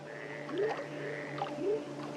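Toads croaking in a rainforest: a few rising, buzzy calls stand out against a steady chorus of insects and frogs, fairly close and with no talking.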